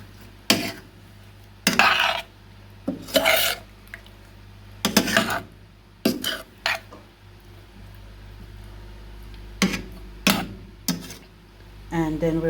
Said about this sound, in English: And then we're going to mix in the mango into the curry